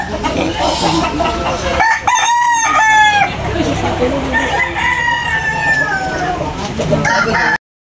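Roosters crowing repeatedly over clucking chickens at a busy poultry market in Tabunok, Talisay, with loud, close crows rising above constant crowd noise and background chatter.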